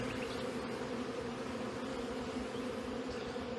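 Honeybees buzzing in an open hive during an acacia honey harvest, a dense continuous hum, steady and close, with no talking.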